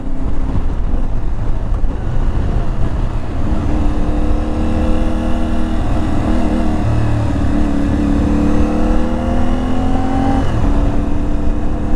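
An IBEX 450 motorcycle engine hums steadily while riding, a loud continuous drone whose pitch slowly rises and falls with throttle changes, backed by wind noise throughout.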